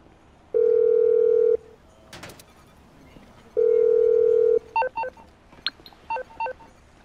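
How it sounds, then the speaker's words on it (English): A phone call dialing and ringing in the GTA V video game: two long steady ring tones a few seconds apart, followed by a rapid run of short dial-pad beeps, loud and close with no talk. "Lamar, Lamar, pick up the phone."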